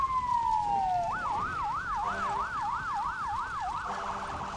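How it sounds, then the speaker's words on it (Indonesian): Emergency sirens of an ambulance and fire engine responding to a building fire at night, a steady tone shifting into a fast rising-and-falling warble, loud and close with traffic noise beneath. "Suara sirene ambulan dan pemadam kebakaran saling beradu."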